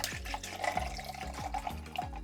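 A small amount of water is poured into a shaker or cup for a protein drink, giving a steady gurgling trickle with repeated glugging pulses, close and moderately quiet.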